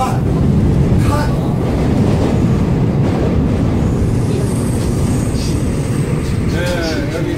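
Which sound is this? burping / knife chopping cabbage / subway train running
subway train running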